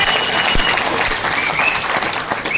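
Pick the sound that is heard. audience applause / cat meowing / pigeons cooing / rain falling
audience applause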